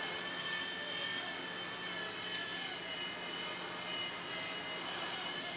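A Blade Nano S3 RC helicopter flies nearby with a steady, high-pitched motor whine and rotor buzz that holds loud and unbroken throughout.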